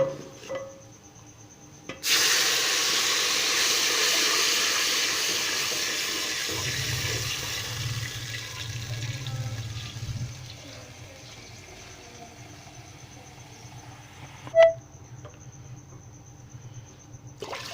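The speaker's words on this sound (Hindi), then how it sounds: "तो अभी हम इसमें शामिल करेंगे 4 गिलास पानी के।" Four glasses of water pour steadily into a cooking pot for several seconds with a broad rushing splash, then taper off, ending with a sharp clank near the end.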